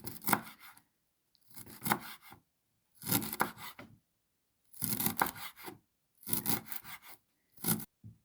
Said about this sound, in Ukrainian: Дрібно нарізую пучечок крупу.